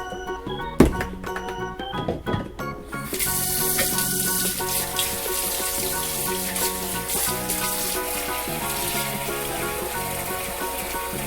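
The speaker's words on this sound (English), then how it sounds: "Pardon the loud tap water for a second." Tap water gushes steadily into a sink, a loud continuous splashing hiss following a few clinks and knocks.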